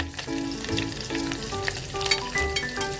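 Green chilies and curry leaves frying in hot oil in a pan, a steady close crackle and sizzle with sharp pops and occasional stirring clinks, no talking.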